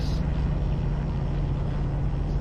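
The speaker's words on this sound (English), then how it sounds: "I did also put in different realistic truck sounds." Freightliner truck with a realistic engine sound mod in the American Truck Simulator video game, giving a loud, steady low diesel rumble that holds unbroken for a couple of seconds with no talking.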